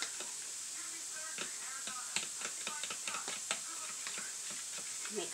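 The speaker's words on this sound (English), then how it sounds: "And we whisk." Eggs and mushroom mixture being whisked, with quick light clicking strokes of the utensil against the bowl repeating in an uneven rhythm over a faint hiss, close and fairly quiet.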